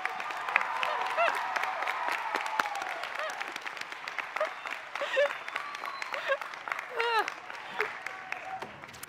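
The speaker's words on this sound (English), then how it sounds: "I would like to invite everyone here to give all of our graduates a big round of applause." Lively crowd applause for graduates at a college commencement ceremony, steady clapping with whoops and cheers rising above it and scattered voices calling out throughout.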